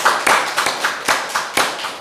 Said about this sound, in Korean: 하나님께 박수로 영광을 돌리실까요?